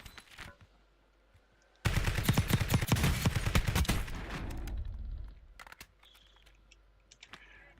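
Automatic gunfire in Call of Duty Warzone, shooting through loadout boxes: a loud, rapid burst of shots lasting about two seconds, followed by a fading rumble and scattered faint clicks, with no talking.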